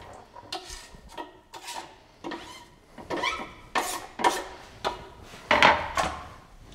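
A spoon stirs a pot of hearty minestrone with carrot, in a series of rhythmic, close rasping scrapes against the pot, about a dozen strokes growing slightly louder and busier toward the end.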